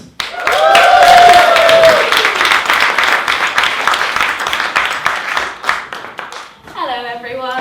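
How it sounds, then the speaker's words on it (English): Audience at a poetry slam applauds and cheers a poet, with a dense burst of clapping and a shout that slowly thins out before a single voice starts talking near the end. "big round of applause for Natasha Dix."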